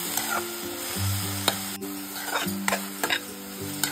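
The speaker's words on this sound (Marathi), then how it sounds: "आता ना ही भाजी आपल्याला तेलावरती अगदी छान अशी परतून घ्यायची साधारणतः 2 मिनिटांसाठी" Chickpea greens sautéing in oil, a close sizzle punctuated by sharp scrapes and taps of a spatula stirring the leaves in the pan.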